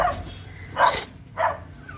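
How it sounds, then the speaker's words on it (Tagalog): Dogs bark in two sharp, loud bursts close by, separated by a short pause, over faint background hum. "Ang ingay nitong mga aso ko mga mima. Hindi ko alam kung sino yung tanatahulan."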